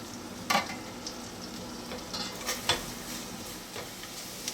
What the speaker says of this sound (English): we just want to make sure that this garlic sweats. We don't want to allow it to brown at all